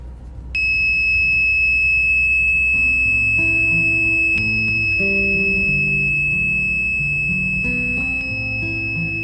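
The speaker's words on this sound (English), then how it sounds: "an alarm started to go off in the vehicle" A loud electronic alarm goes off inside a Land Rover at night, a steady high piercing tone held for several seconds with a brief break, over low engine rumble and shifting mechanical tones.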